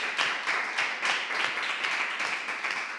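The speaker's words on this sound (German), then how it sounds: "Einen herzlichen Applaus." A live audience at a Berlin film festival event gives dense, continuous clapping to welcome actress Eva Löbau, a steady wash of many hands with no voices over it.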